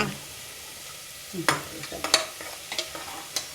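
Onions browning in a hot pan, stirred with a spatula: a low sizzle underneath scattered scraping and clattering strokes, close and fairly loud, no voices.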